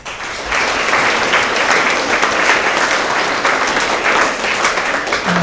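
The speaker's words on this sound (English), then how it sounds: "Let's have a round of applause for all of our science award winners." An audience at a middle school award assembly breaks into sustained applause, many hands clapping densely and steadily at close range.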